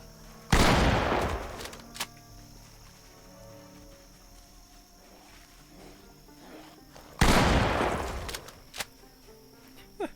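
A single-shot shotgun fires twice in the Project Zomboid video game, each blast loud and booming with a decaying tail, several seconds apart, and small clicks and thuds follow between the shots.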